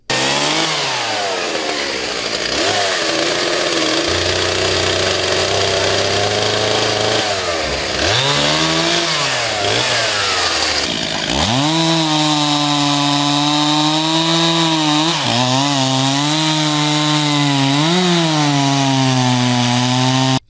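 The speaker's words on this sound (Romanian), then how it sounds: "astăzi drujbele muncitorilor de la ADP au tăiat 4 dintre cei 8 brazi." Workers' chainsaws cut down fir trees outdoors, the engines droning loud and continuous, with the pitch dipping and rising sharply as the blades bog down in the wood and then rev back up.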